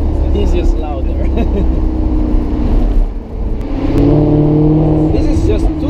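A Maserati GranCabrio MC Stradale engine holds a steady, loud low drone at about 2,000 RPM, rising slightly in the second half, with people talking over it throughout.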